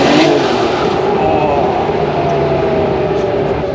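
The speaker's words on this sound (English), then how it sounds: "that's what a fresh built 930 motor sounds like" A freshly built Porsche 930 Turbo engine runs loud and close with a rough, throaty roar, holding a steady rumble throughout.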